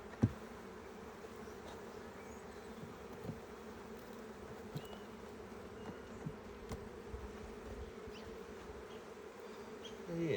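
Honey bees hum around an open Langstroth hive during an inspection, a steady faint buzzing drone with occasional light knocks and clicks.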